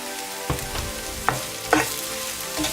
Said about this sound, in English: Just to give it a mix and allow this to cook for 2 minutes.